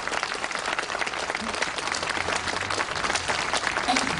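An audience at an Armenian community rally in Los Angeles applauds activists, with dense, sustained clapping from a crowd filling the whole stretch at an even level.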